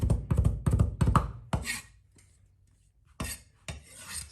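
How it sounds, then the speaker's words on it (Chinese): A knife chops a small piece of ginger on a board, a quick run of close, sharp thuds, then a pause and two more heavy strikes, with no voices. "1小块生姜用刀拍匀剁碎"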